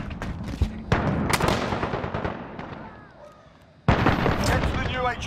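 In Call of Duty: Modern Warfare, sharp gunshots crack in rapid bursts, then a grenade blast booms with debris and gunfire resuming right after, loud and close, with game voice lines mixed in.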